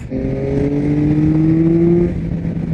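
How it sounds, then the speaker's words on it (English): A 2022 Yamaha XSR900 motorcycle accelerates hard, loud and close, its engine note climbing steadily with a strong intake roar before easing off near the end. "you twist the throttle, get lots of intake noise, and it takes off."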